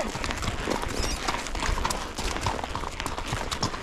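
Horse hooves clip-clop steadily on a first trail ride out of the round pen, a dense run of close hoofbeats over outdoor noise, with a faint voice now and then.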